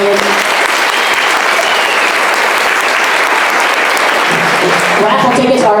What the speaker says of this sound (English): let's give them a round of applause for the items that they donated